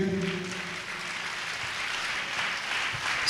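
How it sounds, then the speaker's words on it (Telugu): A crowd claps continuously, a steady wash of applause that holds at an even level throughout. "చప్పట్లు కొట్టండి గట్టిగా"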